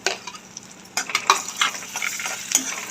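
Spices and chopped tomato are stirred in a pan for a dandi dry fish dish, with soft sizzling under a series of close, irregular scrapes and taps of a spoon against the pan, no voices.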